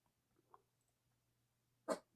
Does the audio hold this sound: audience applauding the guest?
no